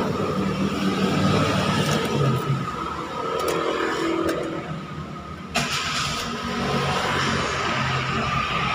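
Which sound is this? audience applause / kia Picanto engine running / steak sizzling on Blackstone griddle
kia Picanto engine running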